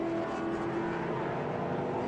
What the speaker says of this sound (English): You can hear the tires just fighting for grip around turn 1.